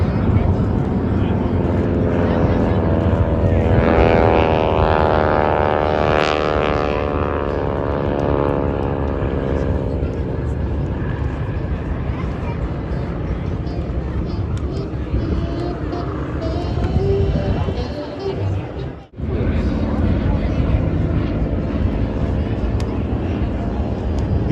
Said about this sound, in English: Let's listen to the sound of these radial piston engines.